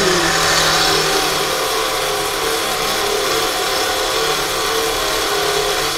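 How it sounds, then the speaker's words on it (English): A Van de Graaff generator motor starts up and runs, a loud, steady whirring hum with dense broadband noise, fairly close and continuous, with no voices. "We start up our van der Graaff generator."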